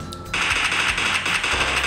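Rapid automatic gunfire in the mobile game PUBG Mobile played on a Redmi Note 8 phone, a steady burst of quick rattling shots starting abruptly and continuing loud throughout.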